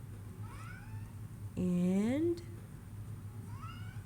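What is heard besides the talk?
cat meowing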